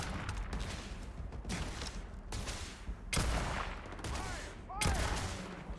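Bursts of gunfire from the Ranger quest-line gun, a poison-bullet weapon in Starfield, come in several separate volleys spread across the moment, fairly muffled and mixed with game ambience.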